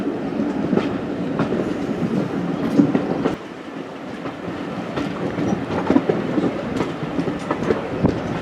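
Ride aboard a heritage railway train on the Cholsey to Wallingford line, with steady rumbling and rhythmic wheel clacks on the rails, close and continuous, briefly dipping quieter midway.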